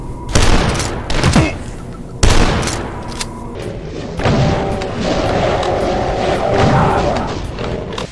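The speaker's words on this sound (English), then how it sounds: "The super shotgun as well, and it feels basically identical to the super shotgun of Doom 2." Super shotgun blasts in the retro first-person shooter DUSK: several loud, punchy booms at irregular intervals, each with a rough decaying tail, followed by steadier rumbling action and a faint tonal hum, no talk.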